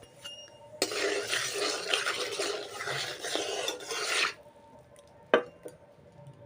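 Eggs sizzling in hot oil with salt, turmeric and Kashmiri red chili powder for an egg curry, a loud dense frying hiss lasting several seconds, then fading to quieter crackle with a sharp clink of a utensil near the end.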